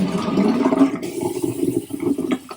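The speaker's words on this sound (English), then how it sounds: "Then it's going to suck it down and flush it for you." An RV toilet in a 2018 Entegra Aspire 44R motorhome flushes with a strong suction whoosh, then water runs as the bowl refills, close and steady.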